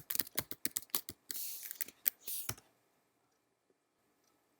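Sharp keyboard key clicks type out a password in a quick uneven burst, several taps close together with a longer press in between, then the typing stops and near silence follows.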